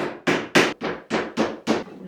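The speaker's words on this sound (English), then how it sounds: "We're just gonna hammer them all in." Seven sharp hammer blows in a steady rhythm, knocking pegs into wood, close and fairly loud with no talking.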